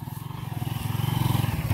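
Motorcycle engine running on a dirt track into a rough farm in the backwoods near the Guaporé River, a steady pulsing drone with slight revving, close and fairly loud.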